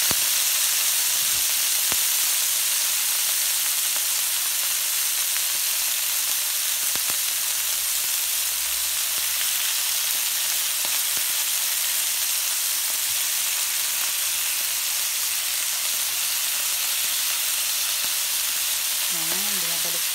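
Chicken breast sizzles steadily in hot oil in a pan, a continuous close frying hiss with occasional small pops and faint utensil clicks, no talking.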